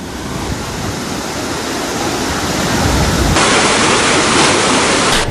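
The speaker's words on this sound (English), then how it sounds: "Sluice gates at the Rajangane Reservoir were also opened." Water from the opened sluice gates of the Rajangane Reservoir roars in a loud, continuous, dense rush, steady and unbroken throughout with no voices.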